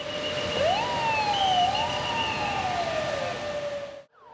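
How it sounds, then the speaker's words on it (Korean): A civil defense air raid siren sounds during a nationwide drill in South Korea, one loud wailing tone rising and falling steadily, close and alone, cutting off abruptly at the end. "오후 2시 정각이 되자 요란한 사이렌이 울립니다."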